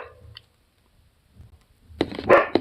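A dog barks in a short, loud burst of several sharp barks near the end, close by, after a mostly quiet stretch with faint low rumbling.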